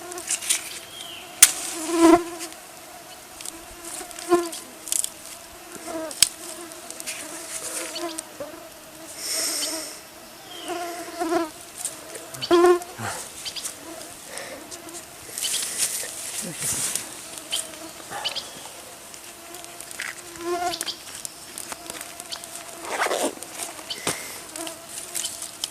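Mosquitoes and other insects buzz around in a forest, their thin whines passing close again and again over a quiet background, with small taps and rustles in between.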